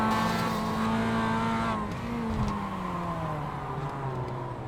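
A race car engine in the iRacing sim racing game revs with a sustained, buzzing, harmonic whine that holds steady, then dips and drops in pitch as the car slows, heard alone at moderate level.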